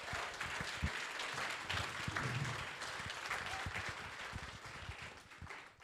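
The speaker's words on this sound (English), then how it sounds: "Can we please give Dr. Fry Brown another round of applause?" Audience applause for a guest lecturer at a memorial lectureship event, a steady, dense wash of clapping throughout, fairly distant and sustained, with a brief murmur of voices underneath.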